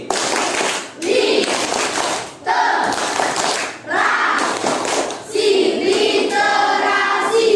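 Classroom group clapping chant 'tepuk literasi' in a teacher's lesson, with bursts of rhythmic hand claps from children alternating with chanted voices, fairly loud and continuous across the room.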